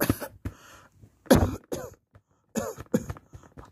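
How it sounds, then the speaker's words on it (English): Several short, dry coughs come one after another with brief pauses between them, close and fairly soft, with no talking, during a doctor's examination. "I need you to cough."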